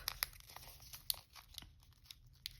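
Sheet of origami paper being folded into a triangle, soft faint crinkles and sharp little creasing ticks scattered over a few seconds, close and quiet.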